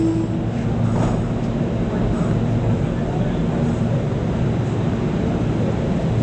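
Inside a moving passenger train, a steady low rumble and rolling rail noise carry on continuously with a little background chatter.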